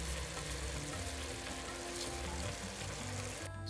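Biryani masala paste sautéing in a pot for Kerala-style one-pot mutton biryani gives off a loud, continuous close-up sizzle and crackle that runs unbroken until a brief dip at the very end.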